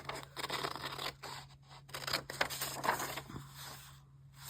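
Scissors cut paper for a travel journal, giving close crisp snips and rustling scrapes in a quiet room, with a low steady hum underneath.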